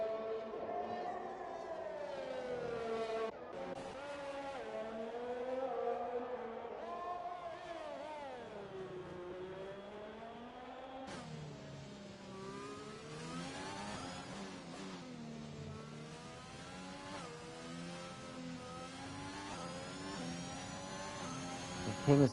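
A Williams Formula One car screams around the Singapore circuit on a qualifying flying lap in F1 2021, its engine note climbing and dropping through gear changes, steady and fairly close, with no talk over it.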